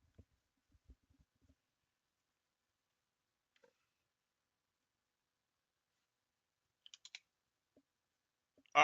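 Sparse, faint key clicks from typing on a computer keyboard, a few isolated taps and short clusters spread across long stretches of near silence, ending in a slightly louder burst.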